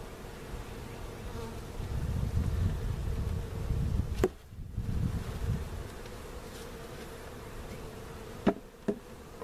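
Honeybees buzz steadily close by as they are moved into a new hive, with a few sharp knocks cutting through the hum.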